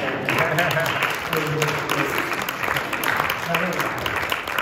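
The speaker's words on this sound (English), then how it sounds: "Give him a round of applause." Full, steady crowd applause fills a comedy show hall, dense and unbroken, with voices mixed in beneath the clapping.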